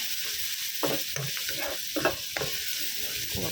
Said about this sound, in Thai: ลงผัดต่อได้เลยค่ะ อันนี้เราจะผัดนะคะ ให้กระเทียมกับเหลืองของเราสุกนะคะ